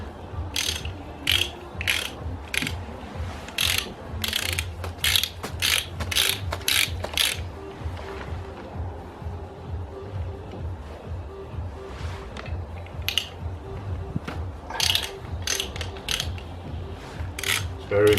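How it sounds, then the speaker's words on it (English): Ratchet wrench clicking in bursts as bolts are loosened on a Skoda 15 truck while oil drains, close and loud, with short pauses between runs and a steady low background hum. "While it drains, I can already unbolt these"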